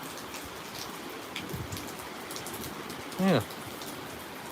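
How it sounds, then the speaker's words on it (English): Rain falls steadily after a storm and grows a little heavier, a soft, even patter close by with scattered drops. A person says a brief word partway through. "Rain's getting a bit heavier."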